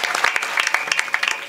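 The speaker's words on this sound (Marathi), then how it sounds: "म्हणून अंतकरणातून टाळ्या वाजल्या पाहिजेत" Audience at a kirtan during an Akhand Harinam gathering bursts into steady, dense applause, many hands clapping together in a rapid, continuous patter for the whole stretch.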